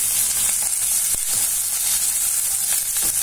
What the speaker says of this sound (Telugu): ఉల్లిపాయలు వేయగానే ఇందులో కరివేపాకు ఒక కప్పు కరివేపాకు అది కూడా వేసి వేగనివ్వాలి